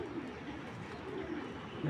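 Soft, low pigeon coos murmur close by in a quiet space, a few gentle rolling calls blending together.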